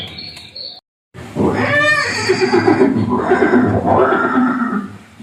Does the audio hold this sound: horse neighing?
yes